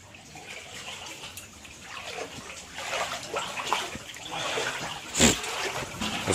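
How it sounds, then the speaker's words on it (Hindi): Floodwater flows steadily after heavy rain in Hyderabad, a continuous rushing, splashing wash of water with small surges and one sharper splash near the end, close by. "ये MS मख्ते में जो है चारों तरफ से पानी जो है भर गया साहब"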